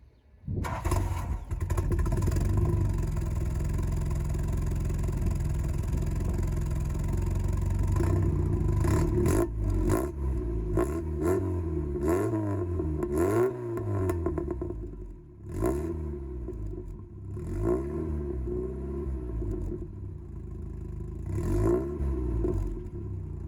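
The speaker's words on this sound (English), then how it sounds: "I finally got a stainless exhaust put on. I will put the video in of the sound of it now." A car with a stainless exhaust and its ignition timing out starts and then revs hard several times, the exhaust rising and falling with a throaty, popping note, loud and close.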